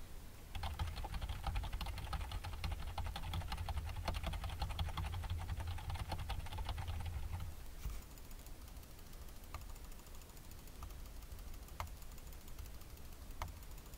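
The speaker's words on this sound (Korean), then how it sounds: "키보드와 마우스 버튼 소리를 어느 정도로 수음하는지 알아보기 위해 눌러보겠습니다" Rapid, steady keyboard typing fills the first half, then stops; a few sharp, isolated mouse clicks follow sparsely afterward, fairly close and clear, picked up by a Creative Live! Cam Sync 1080p V2 webcam microphone.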